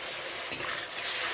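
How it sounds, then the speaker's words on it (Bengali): Masala is stir-fried in a pan after a little water and sugar go in. A brief, even hiss of frying carries one soft scrape of stirring partway through. "ভালো করে কষিয়ে নেব"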